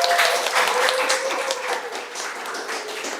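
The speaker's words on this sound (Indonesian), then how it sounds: "beri tepuk tangan dulu untuk Ica" Classmates clap for a student in a classroom: a short burst of dense applause that stays fairly even and gradually softens, with a faint voice or tone running underneath.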